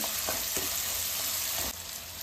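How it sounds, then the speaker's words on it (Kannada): Onions fry in hot oil with mustard seeds and cumin for a pumpkin palya. A steady, close sizzle runs throughout, with a few soft stirring scrapes and no talking. "ಈರುಳ್ಳಿ ಚೆನ್ನಾಗಿ ಫ್ರೈ ಆಗಿದೆ"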